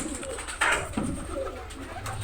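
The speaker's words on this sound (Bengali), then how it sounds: "কত কবুতর বাবা।" Pigeons coo in a loose, overlapping flock while feeding near a house where a cat prowls, a steady close murmur with one louder burst partway through over faint background noise.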